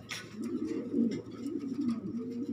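Pigeons at a pigeon farm coo close by in low, throaty, repeated calls that roll one into the next, opening with a brief flutter-like rustle.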